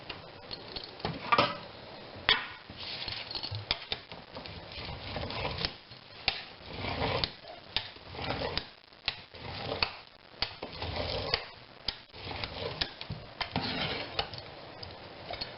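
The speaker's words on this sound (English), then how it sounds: "I just use basically a pizza cutter. It works pretty good. I'm scoring this to get it out." A pizza cutter scores and loosens freeze-dried eggs in a tray pan, giving repeated close scraping and light rolling taps against the metal in an uneven rhythm throughout.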